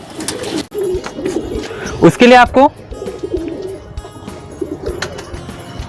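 A female pigeon with a crooked, twisted neck coos in a short, throaty burst rising from the middle of the clip, close and fairly loud, while a person speaks nearby before and after it.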